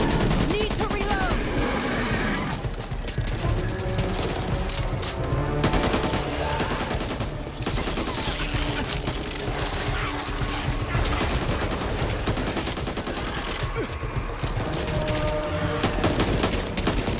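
Dense, continuous automatic gunfire in the zombie shooter Back 4 Blood, rapid overlapping shots with booms mixed in, loud throughout under occasional game dialogue.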